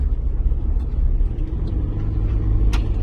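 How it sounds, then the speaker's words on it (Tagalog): Heavy car engine rumble on a city boulevard at night in Cebu City, a red car driving in close by amid steady traffic noise, loud and continuous. "Itong pulang sasakyan dyan papasok"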